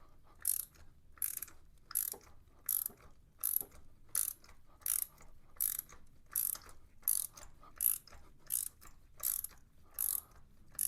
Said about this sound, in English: This just screwed in by hand most of the way the last time. This is coming out hard all the way.